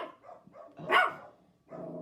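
Pet dogs barking indoors at home: a few short yips and barks, with one louder bark in the middle, close by, and no talking.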